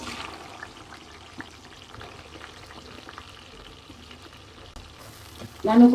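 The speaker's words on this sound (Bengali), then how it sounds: "আমি কড়াইতে তেল দিয়ে দিচ্ছি এখন আমি পেঁয়াজ দিয়ে দিচ্ছি" Onions frying in oil in a wok, a faint steady sizzle with light stirring scrapes, ending in a louder burst of sound near the close.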